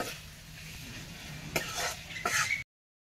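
Chicken pieces stir-fried in a hot pan, a close sizzle with sharp scraping clatters of a utensil against the pan, two louder stirring strokes near the end.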